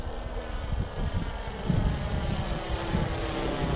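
Tiger-Moth four-stroke nitro model engine running steadily, a buzzing rough drone with fluctuating intensity, close and loud throughout with no voices.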